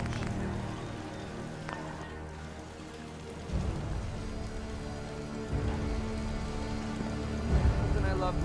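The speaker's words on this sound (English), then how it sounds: "Nothing I love more than hiking in the rain. Damn, really coming down." Steady rain pours down across an outdoor landscape in the video game Fallout 4, a dense continuous hiss with low rumbling swells and a few louder gusts, no talking.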